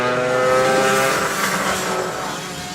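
A racing kart with a very loud exhaust roars past on a club circuit during a championship race. Its high, buzzing engine note swells and then fades as it pulls away.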